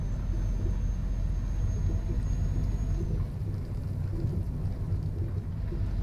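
Steady rain pours with a low thunder rumble beneath it in Euro Truck Simulator 2, a truck out on a rainy dirt mine road near Kirkenes; dense, continuous wash with no talk.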